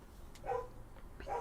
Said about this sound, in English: Sorry about the doggo.